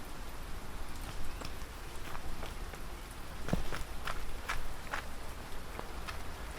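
Steady pouring rain in England patters down with scattered sharper drops and splashes landing nearby, a continuous wet hiss with no voices.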